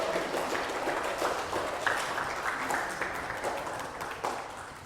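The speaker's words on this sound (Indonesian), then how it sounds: "Kasih saya tepuk tangan dong." Audience applause at an evening literacy oration in a library hall, a moderately loud burst of many hands clapping that gradually thins out.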